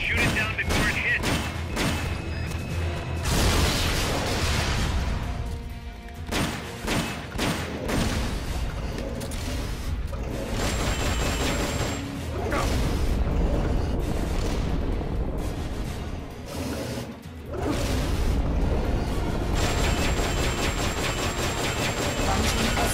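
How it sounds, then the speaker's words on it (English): Launched S-mines, explosions and heavy gunfire in Metal Gear Solid Peace Walker, with repeated booms and rapid shots dense and loud throughout, under a voice talking. "Launching S-mines. Shoot it down before it hits."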